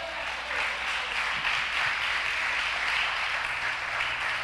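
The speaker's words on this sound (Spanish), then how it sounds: "¿Cuántos dan un aplauso a Jesús por eso?" A church congregation claps together during a Spanish-language sermon, a steady moderate wash of applause lasting throughout at medium distance.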